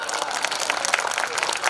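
A crowd at an outdoor Hindi poetry gathering at an agricultural fair claps steadily for a couple of seconds, a dense, even patter of applause heard from amid the audience.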